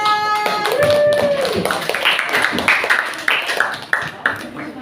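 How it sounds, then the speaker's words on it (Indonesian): A group claps at the close of a classroom lesson, with sharp irregular hand claps and taps. A brief tone and voices sound at the start, then the clapping thins out toward the end. "Tepuk tangan."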